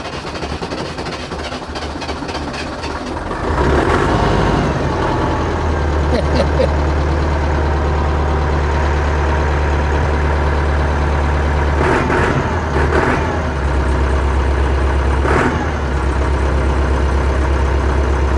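A Volvo BM 500 tractor engine, just started after a starter motor repair, idles with a low steady drone, then rises in loudness and holds a heavier, continuous run as throttle is given.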